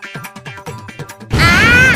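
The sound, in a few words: firecracker exploding inside a box, cartoon effect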